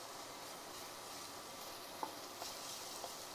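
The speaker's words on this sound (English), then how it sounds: "Stir fry for a couple of minutes." Garlic and onion stir-frying in a pan over medium heat, a faint, quiet, steady sizzle with a few light clicks of a utensil against the pan near the end.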